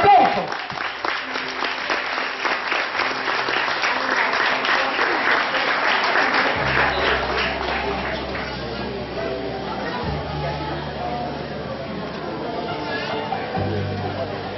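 Crowd applause at a school graduation ceremony, steady dense clapping that gradually thins while a low murmur of voices and some hum continue underneath.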